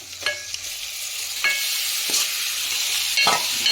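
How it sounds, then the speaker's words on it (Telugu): Mutton pieces fry in hot oil for a Telangana mutton curry, giving a steady, close sizzle broken by several scraping stirs of a spoon in the pan. "మటన్ అయితే సిమ్లో పెట్టి ఇంకా నూనెలో మొత్తం ఫ్రై అవ్వాలి"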